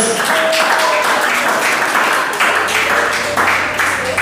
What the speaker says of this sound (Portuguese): Pode bater mais palmas para Jesus.